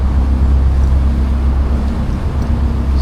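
A motor boat cruising against the tide at about 6 knots, its engine at 1300 RPM, gives a steady, loud low drone with water and wind noise, unbroken throughout.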